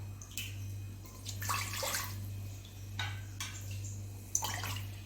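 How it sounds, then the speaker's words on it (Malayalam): A glass of water poured into a pressure cooker on the stove, heard as a few short splashing bursts over a constant low hum, fairly quiet and close. "അതിനായിട്ട് ഞാൻ ഒരു ഗ്ലാസ് വെള്ളം ഒഴിച്ചു കൊടുക്കട്ടെ"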